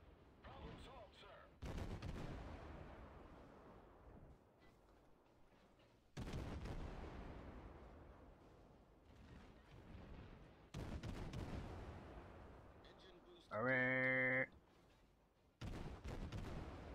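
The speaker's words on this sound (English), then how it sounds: "now he's shooting at me!" Heavy naval guns boom in World of Warships, four or five deep blasts spaced several seconds apart, each rolling off slowly, with a brief tonal alarm-like sound between them.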